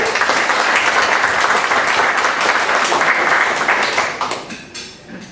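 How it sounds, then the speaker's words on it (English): Audience applause for guests at a Rotary meeting, a full steady round of clapping that tapers off and fades near the end. "Let's have a round of applause for our guests"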